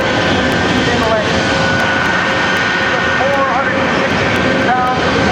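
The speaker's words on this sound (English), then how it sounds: "Top speed in the Microjet, 320 miles an hour." Microjet small jet aircraft, 13 feet long and burning jet fuel, flies at a naval air station air show, a steady loud broadband roar filling the whole stretch while an announcer talks over it.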